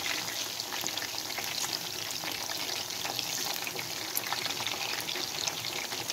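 Raw chicken pieces for chicken manchurian fry in a pan over a low flame, giving a soft, steady, crackling sizzle with light spattering. It runs on without a break, and no one speaks over it.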